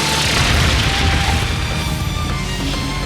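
An explosive blast from the Brionac weapon in the Trails of Cold Steel III video game: a loud, sustained booming roar with dense crackling, filling the whole moment without any voices.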